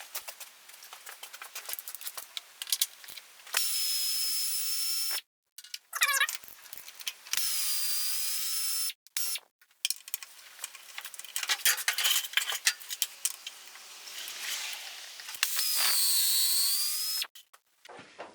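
Hand tools work a skid plate loose from underneath a vehicle ahead of an oil drain, giving close metallic clinks, scrapes and bursts of ratcheting or driver noise with short pauses between them, and no talking.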